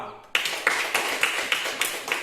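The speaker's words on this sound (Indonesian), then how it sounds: "silakan tepuk tangan untuk kelompok 2" Clapping for group 2 in an Indonesian classroom session, a small number of hands striking in a steady rhythm of loud, evenly spaced claps, close and clear.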